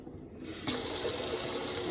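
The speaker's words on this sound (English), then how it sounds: "Now I'm going to put some clean water" Clean tap water runs into a container holding a pork roast being cleaned for tamales, starting as a quiet trickle then gushing steadily and loudly from the faucet to the end, with no talking.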